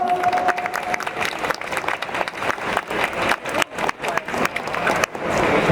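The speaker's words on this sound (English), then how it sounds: "let's give a round of applause for Lock." An audience at the Coscon 2022 convention breaks into sustained applause and some cheering for a contestant, a dense wash of clapping that swells toward the end.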